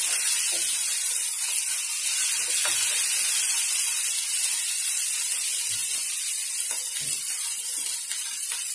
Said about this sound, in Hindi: हम हरी मिर्च को जो है थोड़ी देर के लिए पका लेंगे।